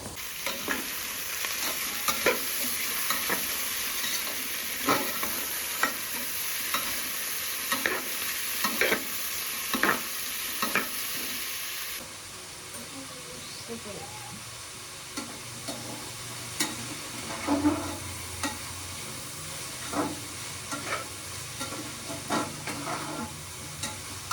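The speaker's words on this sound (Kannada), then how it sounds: "ಪೇಸ್ಟನ್ನೇ ಹಾಕಿ ಮಿಕ್ಸ್ ಮಾಡ್ಕೊಂಡು ಹಾಕ್ತಾಯಿದ್ದೀನಿ" Ginger garlic paste fries in masala under a spatula that scrapes and taps the pan in a regular rhythm. A bright sizzle runs through the first half, then the frying turns quieter and more muted while stirring continues.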